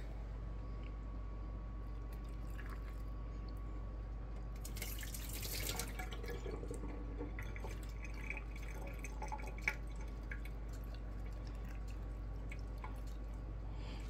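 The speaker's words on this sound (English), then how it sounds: "Alright, gonna add our water." Hot water pours briefly into jars of potatoes for pressure canning for a second or two, faint against a steady low hum, followed by occasional small drips and clinks.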